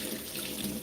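Water runs from a tap in a continuous, even hiss, close and unbroken for the short moment.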